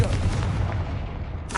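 A Confringo fire-blast spell in the Hogwarts Legacy game bursts with a loud, low booming rumble that fades over a second, followed by a brief sharp crackle.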